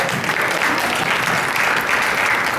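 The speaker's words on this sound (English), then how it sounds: "let's give these guys a round of applause for standing up." Brief, loud applause from an event audience, even dense clapping with no break and no voices above it.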